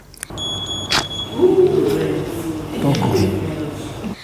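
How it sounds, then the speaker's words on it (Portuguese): An electronic alarm on a seed moisture tester beeps at the end of a moisture test, a few short sharp high beeps near the start, with murmuring voices and background handling noise afterward. "10 minutos depois, o alarme dispara"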